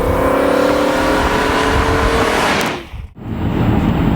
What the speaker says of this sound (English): you can hear the V10 start to warm up